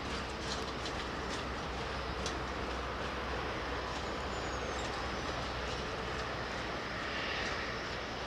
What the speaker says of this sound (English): The clanging sound, folks, are the freight vehicles heading to Terminal 4.